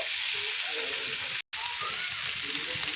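Fried potatoes drop into hot masala in a pan, raising a steady, loud sizzle that runs throughout, broken by a very short gap near the middle.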